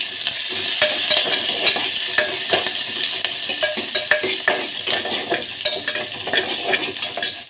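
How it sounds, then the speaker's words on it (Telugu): Onion and dried red chilli frying in a pan for buttermilk rasam, a dense steady sizzle broken by repeated clicks and scrapes of a spoon stirring against the pan, close and fairly loud with no voices. "బాగా ఫ్రై అవ్వాలి ఫ్రై అయ్యాక నెక్స్ట్ వచ్చేసి ఆనియన్"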